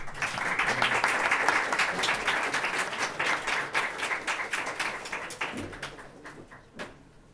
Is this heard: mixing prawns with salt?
no